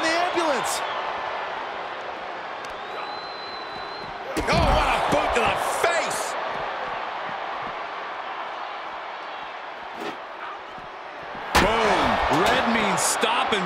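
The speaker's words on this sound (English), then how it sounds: "Trying to at least slam one door shut." Ambulance door being slammed during a WWE 2K24 backstage brawl, with heavy thuds near 4.5 and 11.5 seconds over steady crowd noise and game commentary.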